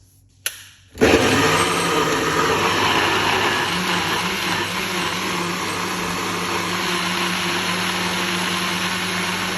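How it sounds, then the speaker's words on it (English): A blender kicks on after a short click and runs continuously at a steady, loud whir blending beetroot, cucumber and ginger until the end. "Pour it out into a blender."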